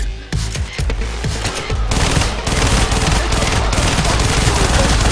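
Rapid video-game gunfire during a heist, loud overlapping shots that start as separate cracks and build into a dense, continuous fusillade of machine-gun bursts.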